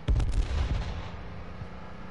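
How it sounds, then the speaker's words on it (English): Grenades explode in a video game: a quick cluster of deep, close booms in the opening half second, then a rumbling tail that fades over the next two seconds. "I didn't see those nades coming."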